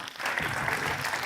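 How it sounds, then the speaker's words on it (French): Brief burst of audience applause, a dense patter of many hands clapping at moderate distance. "comme on est au théâtre, on peut avoir quelques applaudissements"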